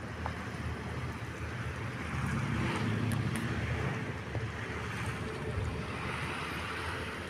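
Steady roar of wind and surf at Port Dickson beach, Malaysia, a broad constant wash of waves and gusts with no voices.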